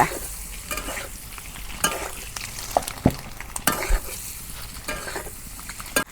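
Eggs fry in a hot pan for a dish with sweet gourd, a continuous close sizzle broken by several sharp scraping stirs of a spatula against the pan at irregular intervals.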